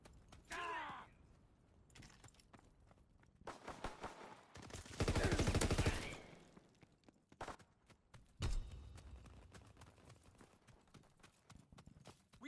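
Bursts of gunfire in a war video game, with scattered shots and a loud sustained volley in the middle, mixed with game effects and shouted voices.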